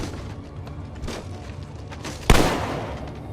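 A single loud gunshot in The Walking Dead: Survival Instinct video game cracks out near the end and decays briefly, following a stretch of quieter in-game ambience.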